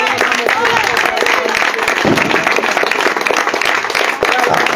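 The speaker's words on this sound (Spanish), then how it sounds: "Denle un aplauso al Señor." Congregation applauding during an evangelical church service, loud dense clapping close by, mixed with voices and crowd noise throughout.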